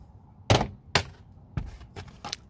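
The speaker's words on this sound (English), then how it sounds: "We're going to pop this door sill off." Plastic door sill trim on a Mazda Miata ND gets pried off in a series of sharp snapping pops, about five cracks at irregular intervals, close and crisp in a quiet space.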